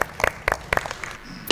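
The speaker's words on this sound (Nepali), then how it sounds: "जोरदार ताली" A talent-show audience on stage breaks into scattered rhythmic clapping, a few loud bursts of hands spaced across a short moment, fairly near and with no talk over it.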